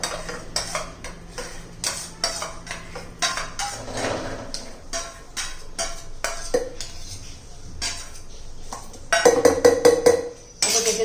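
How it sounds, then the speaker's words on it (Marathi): Repeated clinks and clatters of utensils against a metal mixer jar, irregular and close, as onion chutney ingredients are tipped and scraped in. "हे आपण मिक्सरच्या भांड्यामध्ये घालून घेऊया सर्व"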